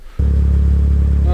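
A car engine catches after a jump start with jumper cables on a car with a worn wheel bearing, then runs steadily, loud and close, with an even mechanical hum.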